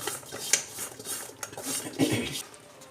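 Fried coconut, onion and curry leaves are tossed in a pan for sukka, with a spoon clinking and scraping against the metal in a few sharp knocks amid a soft background rustle.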